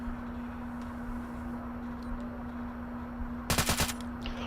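Airsoft rifles at a milsim game fire a short, sharp burst of rapid shots toward a vehicle's tires near the end, after quiet outdoor ambience with a steady electrical hum.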